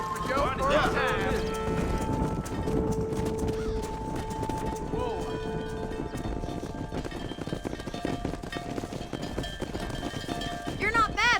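Horses gallop with steady clip-clop hoofbeats while driving a cattle herd in Red Dead Redemption, the running continuous and fairly close throughout, with music and a voice talking over it.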